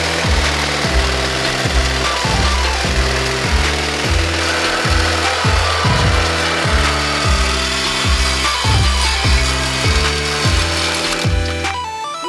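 A power tool cuts through vehicle fenders with a loud, steady run of rhythmic, grinding strokes that ends abruptly.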